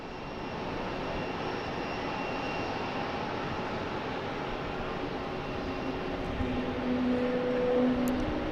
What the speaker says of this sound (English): United Airlines taking off to LAX, flight 639